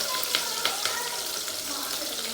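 Mutton sizzles and fries in a pan with onion and green chilies for a village-style mutton curry, a steady close crackle with a few sharper pops and stirring scrapes, no one talking.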